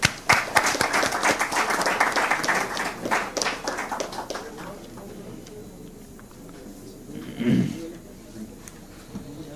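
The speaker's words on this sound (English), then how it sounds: "Please give a big round of applause." Round of applause from the audience at a shipbuilding signing ceremony between Dredging Corporation of India and Cochin Shipyard, brisk clapping that fades out after about five seconds, followed by quiet room noise and a brief thump.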